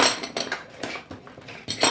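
Non-stick kitchen utensils, such as a spatula and whisk, clink and clatter as they are pulled from a kitchen drawer, in several quick, bright bursts of rattling with no talking.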